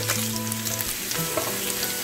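Dried red chillies frying in a pan with beef give a steady, moderate sizzle with light crackles, fairly quiet and unbroken.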